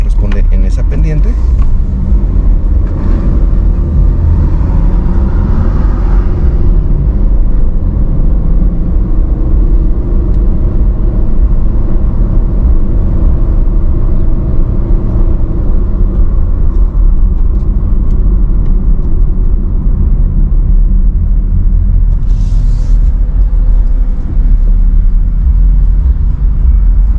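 A 2024 Chevrolet Aveo car climbs a slope with a low, steady engine rumble and road noise inside the cabin. A person talks over it throughout.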